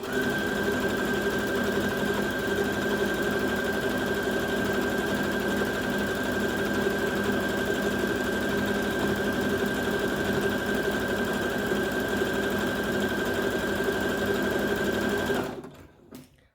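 A sewing machine stitching fabric as it feeds the material along, giving a loud, steady mechanical whir that runs without a break for about fifteen seconds and then abruptly stops.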